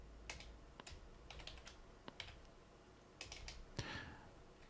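Typing on a computer keyboard while writing JavaScript code, a quiet, close run of irregular key clicks and taps in short bursts with brief pauses between them.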